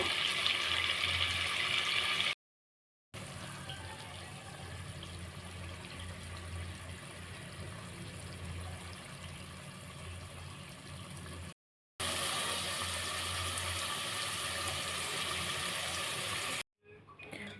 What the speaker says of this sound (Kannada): ಮೇಲುಗಡೆ ಸ್ವಲ್ಪ ಎಣ್ಣೆ ಎಲ್ಲ ನಿಂತ ಮೇಲೆ ನಾನು ಸ್ವಲ್ಪನೇ ನೀರು ಹಾಕ್ತಾ ಹೋಗ್ತಾ ಇದ್ದೀನಿ